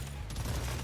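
A gatling gun in the video game Deep Rock Galactic Survivor fires a dense, rapid burst of shots, loud and continuous for under a second.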